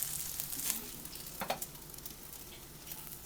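Chicken pieces sizzle in a hot pan, a steady close crackling hiss with a few sharper pops and spatters rising above the frying.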